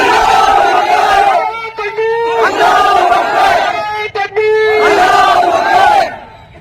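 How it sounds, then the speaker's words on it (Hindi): A large crowd at a street rally in Tonk shouts a religious slogan in unison, three loud, sustained waves of massed voices with brief gaps between them. "उसको सुना दो एक बार नारा तकबीर"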